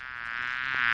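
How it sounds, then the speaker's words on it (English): Wasp buzzing, a steady close whine with a rich harmonic drone that swells slightly louder toward the end, alone and continuous. "Wasp."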